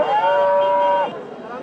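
A cross-breed cow at a busy rural cattle market gives a single sustained moo lasting about a second, close and loud, followed by faint market background.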